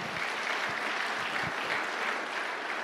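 A church congregation claps during a Tagalog sermon, a steady wash of applause filling the room loudly throughout with no speech.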